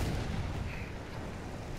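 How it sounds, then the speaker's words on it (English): In Battlefield 1, a bomb's explosion rolls out as a dense, loud, rumbling roar that stays heavy and continuous for the whole moment, with no voices over it. "Oh, some guy tried bombing us."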